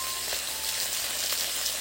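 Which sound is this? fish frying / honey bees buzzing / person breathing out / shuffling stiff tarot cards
fish frying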